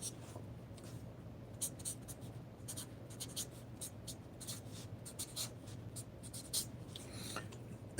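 Pen scratching on paper in short, irregular strokes over several seconds, quiet and close, with a faint low hum underneath and no talking.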